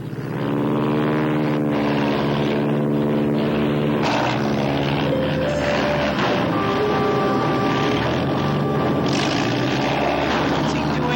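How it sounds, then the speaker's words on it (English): A propeller airplane drones loudly and steadily as it approaches, its engine hum thick with harmonics and swelling slightly in waves over about eleven seconds with no speech. "Plane will be here any minute."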